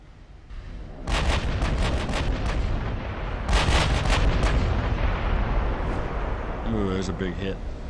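Battleship guns fire in the naval game Ultimate Admiral: Dreadnoughts, heavy rolling booms in two bursts of rapid salvos with rumbling aftermath, a voice speaking over them.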